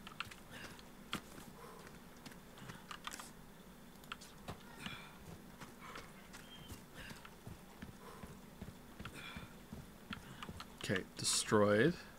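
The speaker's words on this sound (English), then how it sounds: "I can hear your keyboard all from Mars." Computer keyboard typing, a run of quick, light, irregular clicks and taps running faintly in the background, with a louder burst of noise near the end as people talk over it.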